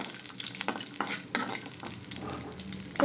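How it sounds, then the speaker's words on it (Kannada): Cashews and raisins frying in hot ghee, a close, lively sizzle with irregular stirring scrapes and clicks against the pan, steady throughout. "ತುಪ್ಪ ಬಿಸಿಯಾಗಿದೆ ಗೋಡಂಬಿ ದ್ರಾಕ್ಷಿ ಇದ್ದೀನಿ ನೋಡಿ ಈ ಥರ ಉರಿಬೇಕು"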